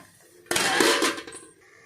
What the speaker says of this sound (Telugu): ఇప్పుడు ఒకసారి తిప్పేసి మూత పెట్టేస్తాను.